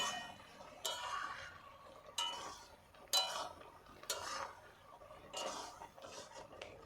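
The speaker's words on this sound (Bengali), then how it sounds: "এগুলো ঘেঁটে দেব, এভাবে নেড়ে চেড়ে" A spoon scrapes and clinks around a pot of sweet-and-sour jujube pickle, with quiet, evenly spaced strokes about once a second and a faint hum behind, close up and without talk.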